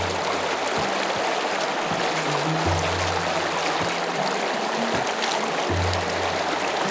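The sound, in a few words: water flowing in ancient Aflaj irrigation channels, Nizwa, Oman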